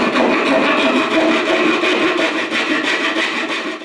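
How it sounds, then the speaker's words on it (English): A keyhole or pad hand saw rasps through wood at its tightest curve, a loud, close, continuous scratchy stroke with an even back-and-forth rhythm and no voices. "I'm trying to cut now pretty much the tightest radius that I can do with this saw"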